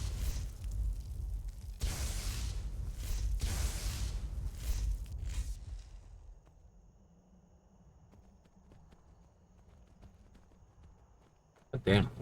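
Horse hooves clip-clop in Skyrim, loud and steady for about six seconds with a few heavy thuds, then fading to a quiet background before a sharp burst at the end.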